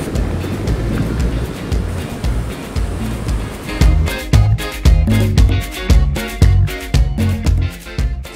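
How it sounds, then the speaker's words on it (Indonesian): Ocean surf at Pantai Pandansari beach, first a windy wash of waves, then repeated sharp bursts of breaking surf and buffeting wind that come close and loud in an uneven rhythm. "Lokasinya ada di Pantai Pandansari."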